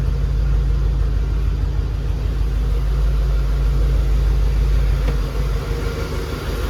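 A Mercedes E55 AMG engine idles steadily after a restart, a continuous low rumble close by, even and unbroken with no voices over it.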